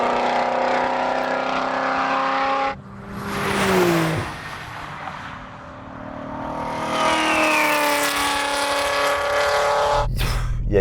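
Porsche 911 and Shelby GT350 launching side by side in a drag race, engines roaring loud and revving hard with tyres spinning and smoking, the note rising, dipping, then surging again before cutting off abruptly.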